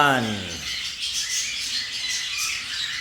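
A flock of heavy pied cockatiels chirps and squawks inside an aviary flight, a dense overlapping chatter of calls that stays steady throughout.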